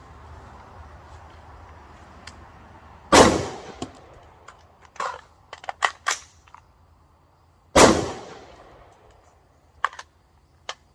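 Two sharp, loud gunshots from a budget Palmetto AR rifle fitted with a Strike Industries compensator, spaced several seconds apart, each followed by echoes and small metallic clicks of handling.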